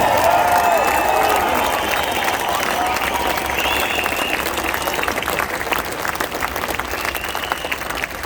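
A large crowd at a Perth freedom rally claps and cheers loudly, with sustained dense applause and scattered whoops and shouts rising above it, fading slightly as it continues.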